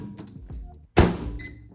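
A microwave door in a container-home kitchen shuts with one sharp, close thunk after a brief pause, its short echo trailing off.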